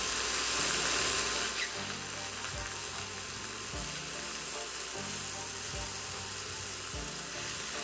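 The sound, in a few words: mushrooms frying in a pan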